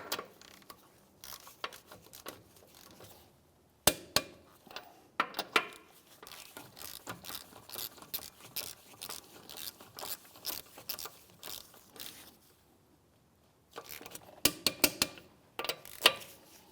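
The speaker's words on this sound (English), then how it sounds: "Now we're going to torque our wheel down to 70 foot-pounds" A torque wrench tightening the front wheel lug nuts on a 2011-2016 Hyundai Elantra, heard as bursts of close, rapid ratcheting clicks separated by quiet pauses, with a few sharper metallic snaps.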